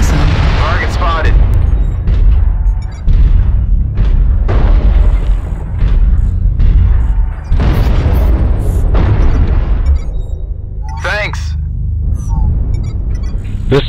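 An incoming missile explodes in a video game: heavy, booming blasts at close range that repeat through the stretch, mixed with game chatter and radio-style voices.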